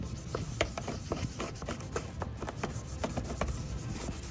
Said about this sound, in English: While sanding, you can hear from the background how rough the lens's surface is.